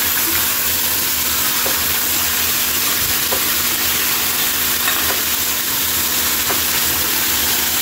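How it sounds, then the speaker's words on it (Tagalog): Octopus sautéing in a pan, a loud, dense continuous sizzle with a few faint clicks of stirring, close up and without talk. "Habang ginigisa natin yung octopus kaili ay si Boy Mukbang"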